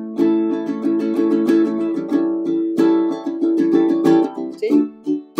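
Ukulele strummed in an even rhythm of down and up strokes, close and clear, with bright chords ringing alone and no talking.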